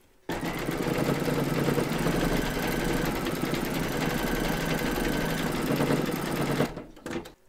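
An embroidery machine stitches a crazy patch quilt block in the hoop, a loud, steady, rapid mechanical chatter running continuously for several seconds before stopping abruptly.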